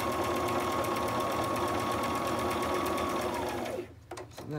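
A sewing machine runs steadily, stitching fabric scrap ribbons with a fast, even whirring buzz up close, then slows and stops, leaving a few faint handling clicks.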